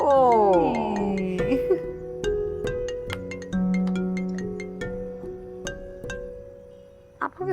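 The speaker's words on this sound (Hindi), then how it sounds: "आपको किसका आ रहा है फोन?" A phone ringtone plays a repeating electronic melody with steady tones, while voices talk over it nearby.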